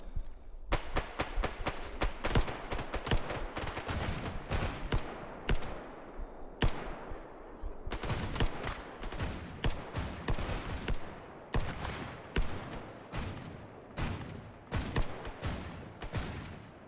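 Armed zombies firing guns in STALKER GAMMA: rapid, sharp volleys of gunshots, bursts of automatic fire with brief pauses, loud and close, continuing throughout without talk.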